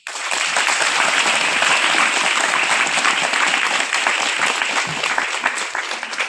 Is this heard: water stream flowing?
no